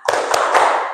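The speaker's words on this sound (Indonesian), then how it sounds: "tepuk semangat" A classroom of students does a rhythmic spirit clap. A few loud, close, sharp claps land in quick succession within a second.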